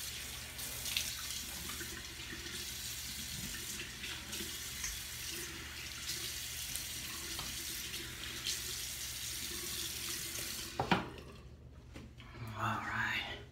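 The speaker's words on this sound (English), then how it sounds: "let's rinse it off and go for my aftershave" Running tap water rinsing off after a shave, a steady hiss of flowing water from a faucet into a sink that continues for most of the moment, then stops, followed by a few quieter handling sounds.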